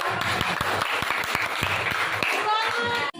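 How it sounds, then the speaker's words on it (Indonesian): A classroom group of students claps in a short burst, sharp individual claps stacking into loose applause for about three seconds, with a teacher's voice faintly underneath. "kita berikan tepuk tangan untuk"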